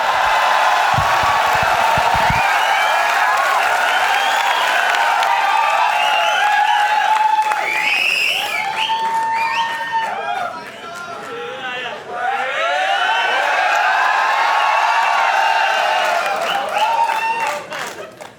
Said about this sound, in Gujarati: please welcome with a huge round of applause legendary Gujarati comedian